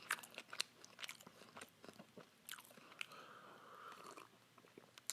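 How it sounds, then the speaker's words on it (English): Crispy potato wedges are bitten and chewed close to the mic, with sharp crunches at first that give way to softer, irregular chewing at low volume and no speech. "Let me try some wedges."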